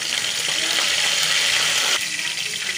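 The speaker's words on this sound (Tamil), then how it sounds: "எண்ணெய் காஞ்சிடுச்சுங்க, இப்போ கடுகு சேர்த்துருக்கேன்." Mustard seeds crackle and splutter in hot oil in a kadai, a dense steady sizzle with scattered sharp pops close by, no voices.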